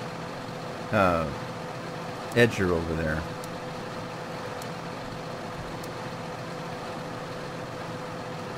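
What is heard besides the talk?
tractor engine running in Farming Simulator 2013 (video game)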